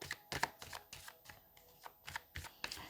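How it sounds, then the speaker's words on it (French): A deck of tarot cards is shuffled close by, producing quiet, rhythmic riffling snaps and soft slides repeating about every third of a second. "est-ce que vous ne voyez pas quand je mélange les cartes?"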